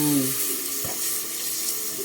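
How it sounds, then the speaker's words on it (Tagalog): Water pours steadily into a pot of sautéed ginger for tinola, a continuous splashing flow with a brief clunk near the start and no talking. "Pag nagisa na, lalagyan mo ng tubig."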